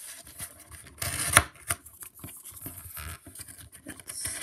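Paper pages of a painting being cut, heard as intermittent scratchy snips and rustles with a sharper crunch near the middle, fairly close and quiet, no talking.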